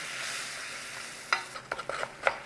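Flour cooking in melted butter for a roux, a soft steady sizzle followed by a few scraping stirs of a spoon or whisk in the pan, close and quiet with no voices.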